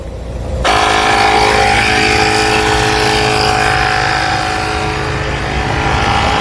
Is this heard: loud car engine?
yes